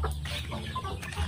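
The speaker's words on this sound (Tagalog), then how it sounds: "Manok." A chicken clucks close by in short, choppy bursts, several quick nasal clucks in a row with no talking.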